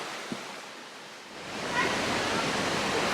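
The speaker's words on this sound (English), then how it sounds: "With some incredible waterfalls." Waterfalls in a beautiful park give off a steady, broadband rushing roar that swells noticeably about halfway through and then holds at a constant, moderately distant level.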